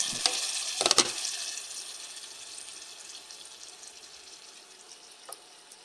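Vegetables from a small home garden are stirred in a frying pan with shrimp, a soft sizzle underneath a few sharp scrapes and clinks of the utensil early on, then fading to a quiet hiss.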